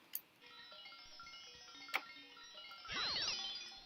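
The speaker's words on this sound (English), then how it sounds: "It sounded like chimes or something were going." A chime-like ting from the video game Super Mario Odyssey rings out as a shimmering cluster of bright tones near the end, after two short clicks and a faint sustained tonal backdrop.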